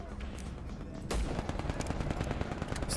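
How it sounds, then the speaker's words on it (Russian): Rapid gunfire from an enemy in the video game Vladik Brutal, a dense, loud stream of shots that swells partway through and keeps going over a busy game soundscape. "Стреляет, стреляет."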